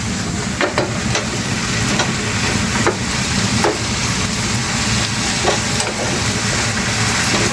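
A utensil stirs seasoned alugbati and garlic, with black pepper sprinkled in, through a hot pan, giving steady scraping and frying sizzle with a few sharper knocks against the pan, close and loud with no voices.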